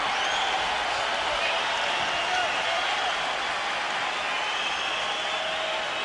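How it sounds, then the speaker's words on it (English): An arena crowd at the Wladimir Klitschko vs Calvin Brock heavyweight boxing fight stands and applauds, a dense, steady wash of clapping and crowd roar that holds level throughout, with voices mixed in. "the crowd stands and applauds the action in the ring"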